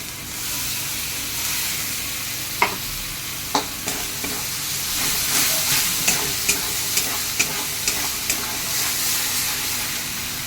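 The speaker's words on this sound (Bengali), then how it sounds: "এইবার আমি টমেটো বাটা দিয়ে দিচ্ছি, একটা গোটা টমেটো।" Ground tomato paste is frying with spices in a pan for chana masala, a loud, close, hissing sizzle with a regular series of sharp spoon taps and scrapes against the pan, no voices.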